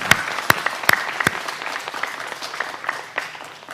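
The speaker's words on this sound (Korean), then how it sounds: "우리 한번 축하의 박수를 한번 드리겠습니다" Church congregation applauding in congratulation during a Sunday worship service, a broad ripple of many hands with a few loud, close claps standing out at the start before it thins toward the end.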